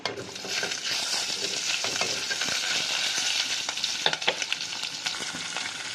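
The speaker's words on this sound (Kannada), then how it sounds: "ಕಟ್ ಮಾಡ್ಕೊಂಡಿರೋ ಈರುಳ್ಳಿ ಬೆಳ್ಳುಳ್ಳಿ ಮತ್ತು ಹಸಿಮೆಣ್ಸಿನ್ಕಾಯಿ ಹಾಕ್ಬಿಟ್ಟು ಚೆನ್ನಾಗಿ ಫ್ರೈ ಮಾಡೋಣ" Chopped onion, garlic and green chillies frying in a pan for idli sambar, a steady close sizzle with occasional stirring scrapes and small pops, no voices.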